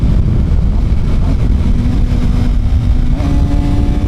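A Suzuki GSX-R 750 sport bike engine drones loud and steady from on board while riding a sweeping corner, its pitch holding and then stepping up near the end as the rider shifts into a higher gear.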